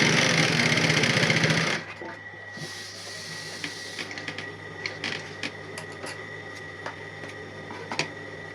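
A sewing machine stitches a zipper pouch, running loud and steady for about two seconds, then stopping, followed by quieter clicks and handling taps nearby.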